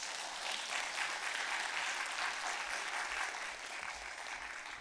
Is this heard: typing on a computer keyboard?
no